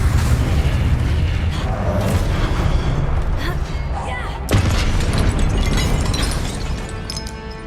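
Confringo fire spell blasts in the Hogwarts Legacy video game, a dense, loud booming explosion that sustains throughout, with a sharp fresh burst midway and talk over the top.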